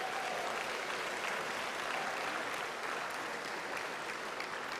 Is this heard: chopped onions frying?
no